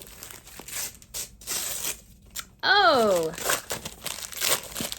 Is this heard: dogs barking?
no